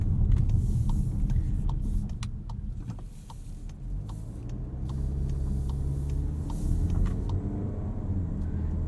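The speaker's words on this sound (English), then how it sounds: "Upon first impressions, this Tiguan drives pretty nicely." A 2022 Volkswagen Tiguan SEL R-Line AWD crossover SUV driving on a road, heard from inside as a steady low engine and road rumble with faint clicks and ticks, no voices.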